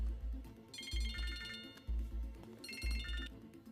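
A phone rings twice in bursts of electronic trilling, fairly close, with low thumping noise underneath and no talking.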